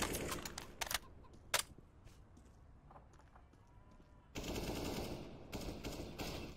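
CS:GO gameplay gunfire: a few sharp shots and short bursts early, then a quieter stretch before a louder, dense spell of game noise and weapon sounds near the end.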